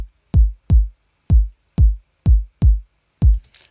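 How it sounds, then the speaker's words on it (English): Seven punchy programmed kick drum hits land at uneven, off-beat spacing, each a deep boomy thump with a short decay, loud and alone, with a faint noisy tail after the last hit. "so I place 4/4 kick drums"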